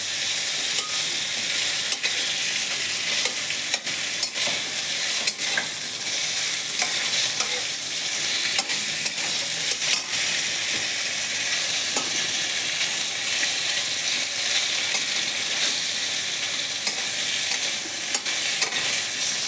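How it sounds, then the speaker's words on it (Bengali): Lata fish fry in a pan with a continuous loud sizzle, while intermittent scrapes and taps come from the fish being turned over, close and uninterrupted by speech. "উলট পালট করে ভেজে নেবো এপিট ওপিট করে ভালো ভালো করে ভেজে নিতে হবে"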